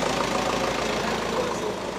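Steady low rumble of traffic idling at a stop outside a second-floor window, a continuous mid-level engine drone without distinct horns or voices.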